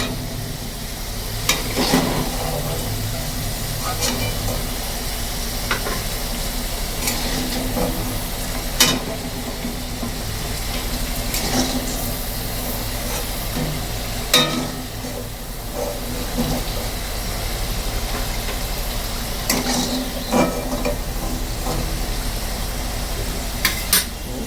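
Potatoes frying in a pan for a Bengali boal fish roe curry, a steady sizzle running throughout with scattered scraping clicks from stirring, fairly close and moderately loud.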